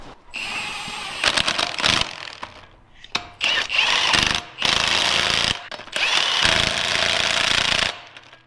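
A power tool, likely an impact wrench, runs in loud, close bursts of one to two seconds with short pauses as it tightens the wheel lug nuts on a Toyota Tacoma 4x4 in a garage.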